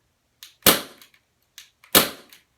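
Two sharp gunshots from a small firearm aimed at a carved Halloween pumpkin, each a loud crack with a brief trailing decay, the second about a second and a half after the first, with softer clicks in between.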